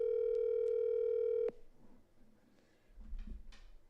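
A telephone line holds a loud, steady electronic tone for about a second and a half before it cuts off, leaving a quiet stretch with faint clicks and low rumbles as the call goes to voicemail.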